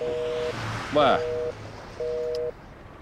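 A phone line gives a disconnected tone after a call is hung up: evenly spaced half-second beeps with short gaps between them. A voice calls out briefly over the tone.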